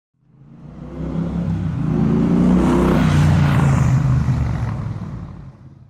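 A Benelli 502 adventure motorcycle with a 500cc engine passes by. Its engine note swells from quiet to a strong, steady drone, then fades away again as it moves off.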